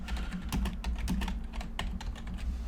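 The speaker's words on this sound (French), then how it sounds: "Alors on va taper cette commande." Quick bursts of computer keyboard keystrokes as a Python command is typed, close and clear with an uneven rhythm and no voices.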